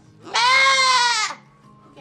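A goat gives one loud, drawn-out bleat close by inside a barn where does are about to kid, followed by quiet.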